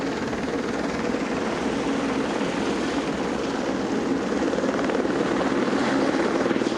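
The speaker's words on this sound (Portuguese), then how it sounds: "Tá um barulho aqui, é helicóptero da Polícia Federal chegando" A Federal Police helicopter's rotors thump in a loud, constant drone, close and continuous, growing slightly stronger toward the end.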